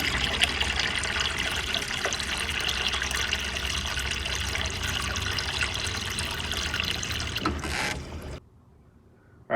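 Water steadily fills the water bath of a Crysalli dispenser around a submerged carbonator tank, a continuous close rushing flow with faint mechanical clicks, stopping abruptly near the end and leaving near silence.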